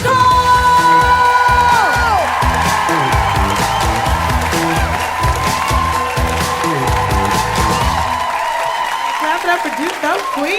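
Comedy club audience cheering and applauding loudly, dense clapping mixed with whoops and yells, over music with a strong beat that drops out near the end while the crowd noise continues.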